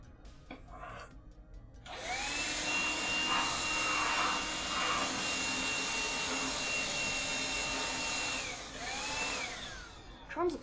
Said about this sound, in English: I'm gonna get the vacuum because she is sniffing up something.